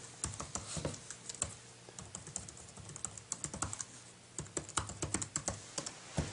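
Keys clatter as an Apple ID is typed on an early 2011 13-inch MacBook Pro keyboard, a close run of light, quick taps in bursts with a short pause near the middle.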